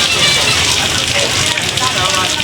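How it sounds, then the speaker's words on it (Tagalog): Steady typhoon rain in Manila pours down in a dense, even hiss, loud and close, with a voice faintly underneath. "Di pa tumitigil ang ulan."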